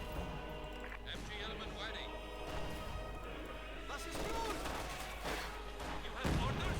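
Grenade blast among the din of battle in Company of Heroes 2, with crashing impacts and gunfire-like bursts across a dense, continuous wash of game noise, a sharper heavy hit near the end, with commentary running over it.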